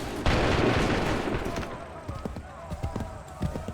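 A musket volley bursts out at once in Assassin's Creed III, one loud crashing discharge followed by scattered fainter shots and thuds, with voices of soldiers murmuring underneath.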